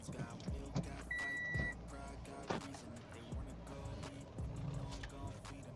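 A car pulls out of a parking area in Saudi Arabia, its engine and rolling tires heard up close amid road noise, with people talking over it.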